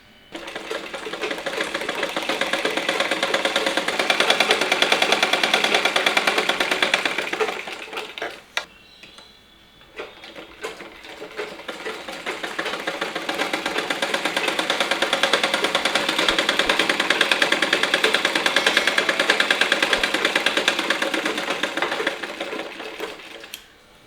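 A sewing machine stitches inskirt panels in long continuous runs of rapid mechanical clatter, loud and close, with a brief pause partway through before the stitching resumes.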